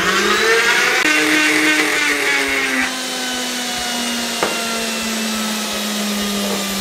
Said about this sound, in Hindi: अर्के गुलाब के साथ हमने अच्छे तरीके से आलू डाल के इसको इस तरीके से ग्राइंड कर लिया